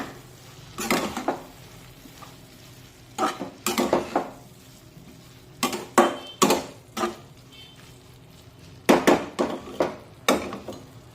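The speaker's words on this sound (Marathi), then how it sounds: "मिक्स करून घेऊया" Radish-pod vegetable gets stirred with crushed roasted peanuts in a wok. A spoon scrapes and clatters against the metal in repeated bursts of a few strokes, with short quiet gaps between them. It sounds close up, and there is no talking.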